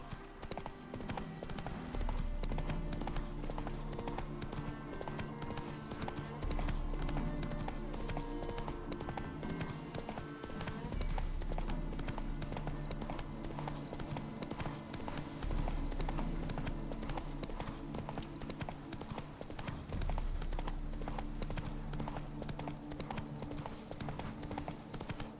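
Hooves of a horse clip-clop steadily in The Witcher 3 video game, a continuous rhythmic trot that carries on alone for the whole stretch over the game's ambient background.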